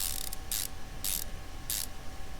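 Pressure plate being bolted onto a gearbox in Car Mechanic Simulator 2015, three quick bursts of a power wrench spinning, fairly faint and evenly spaced over a steady low hum.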